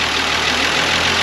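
A restored 1947 Ford pickup engine, newly fitted with a rebuilt carburetor, fuel pump, belts and gaskets, idles steadily up close with a constant even drone and no talk.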